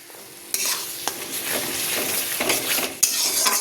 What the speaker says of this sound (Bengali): দেখো বন্ধুরা, আমার কষানো এখানে চলছে।